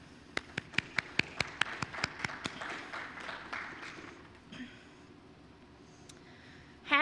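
Applause at an awards celebration, a run of sharp separate claps at the start that thickens into a steady wash of clapping from a crowd, then thins out toward the end, with faint talk underneath.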